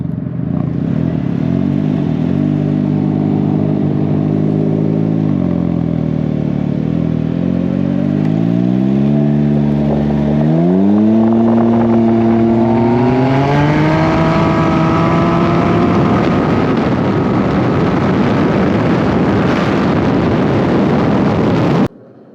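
Two Can-Am Ryker three-wheel motorcycles race from a rolling start, one fitted with a Silber turbo kit; loud, close engines climb steadily in pitch through repeated gear changes, with rising turbo whine over sustained roaring acceleration.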